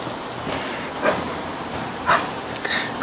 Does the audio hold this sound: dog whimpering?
yes